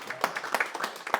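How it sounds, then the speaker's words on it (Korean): An audience applauds a lecture on ancient Korean history, giving a brief burst of scattered hand claps that rises and falls over about a second at moderate loudness. "여러분 그 위대한 우리 고주몽에 박수 한번 보내주십시다"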